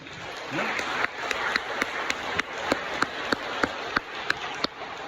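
A church congregation applauding, a steady wash of many hands clapping with sharper louder claps standing out at an even beat, as if part of the crowd keeps time, running throughout.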